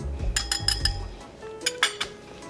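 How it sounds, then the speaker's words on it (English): Metal utensil clinking against a bowl while ingredients are mixed together in a home test kitchen, several quick scraping taps up close, then a pause and a couple of lighter clinks. "this is just pretty much just gonna mix all of these ingredients together"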